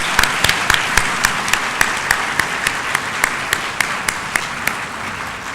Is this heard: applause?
yes